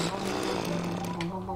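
A drill in the Terraria video game whirs as a continuous buzzing, grinding hum with a steady pitched drone, loud and close, while a person talks over it.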